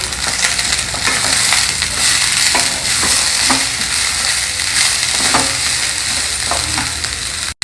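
Cabbage, carrot and peas tumble into a hot pan of oil with curry leaves, giving a loud, steady sizzle and frying hiss throughout, with occasional stirring scrapes and clinks, no talking.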